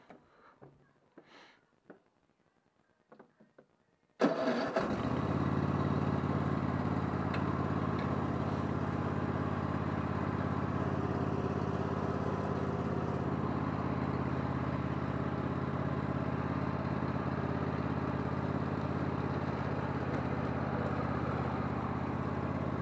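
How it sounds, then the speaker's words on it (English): A Cub Cadet XT2 lawn tractor with mulching blades cranks and catches after some brief handling noises, then runs at a loud, steady drone that holds to the end. "But now I'm going to take it for a little ride cutting the grass."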